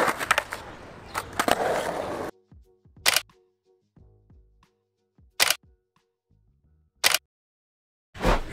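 Skateboard on a ramp doing axle stalls: a loud rolling scrape for two seconds, then sharp separate clacks of the wheels and trucks hitting the coping at intervals, with quieter rattles in between.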